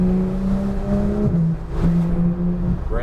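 A Porsche GT3 accelerating around a racetrack, its engine droning loudly up close and falling briefly as the revs drop between gear changes, then pulling again.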